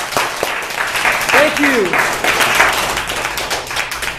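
Audience applause for a speaker at a monthly meeting in Elk Grove, steady clapping throughout with a voice speaking over it.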